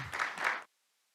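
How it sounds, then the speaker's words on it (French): Applause from a conference audience at a public-private dialogue on renewable energy business, a short burst of clapping lasting just over half a second that cuts off abruptly into silence. "Je remercie et je vous demande d'applaudir encore une fois pour Mme Catherine."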